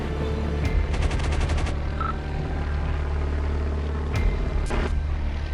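Machine gun bursts in the WW2 flight combat game Gunship Sequel: a rapid rattling burst of shots over steady engine drone, followed by a couple of sharper single reports later, with no talk.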